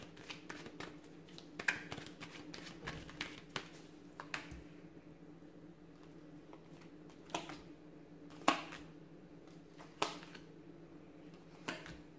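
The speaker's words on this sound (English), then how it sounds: "I'm going to give the cards a shuffle" Soft, papery tarot card shuffling comes in irregular bursts, with sharp riffling clicks against a quiet room.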